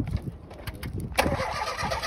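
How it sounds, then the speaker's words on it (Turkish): BMW E36 convertible, a rolled car under repair, fires up: brief cranking then a sudden catch around the midpoint, settling into a steady, fairly close idle. "Motorunu attık çalıştırdık"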